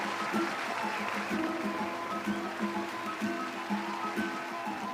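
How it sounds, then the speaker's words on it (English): Audience applause at a graduation ceremony, a steady wash of clapping from a large crowd with a sustained tonal hum of music or voices running beneath it. "Please give them a bigger round of applause."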